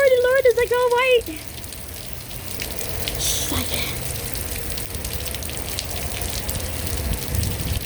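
Meltwater from a hailstorm drips and trickles off a house in Tucson as a steady, close wash of water with a brief tonal sound at the start.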